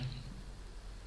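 A single crisp mouse click lands near the end against quiet background hum, made while working in chemistry structure-drawing software.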